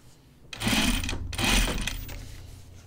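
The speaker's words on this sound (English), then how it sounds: "So I'm just going to do it this way, hemming it over it." A sewing machine hems thick denim jeans in two steady running bursts, a loud mechanical whir separated by a short pause, with no talking.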